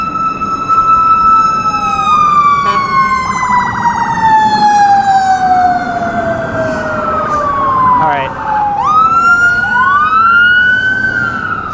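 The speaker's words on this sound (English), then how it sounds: "Fire truck." A loud fire truck siren wails steadily with long falling and rising sweeps, close by, over a constant rumble of street traffic.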